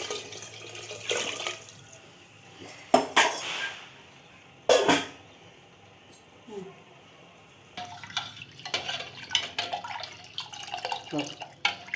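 Rasam ingredients being rinsed by hand and water poured into a pot, with intermittent splashing, trickling and a few sharp clanks near the microphone, faint and partly under a woman's speech.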